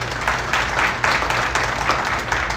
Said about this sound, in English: Again, give them a big round of applause.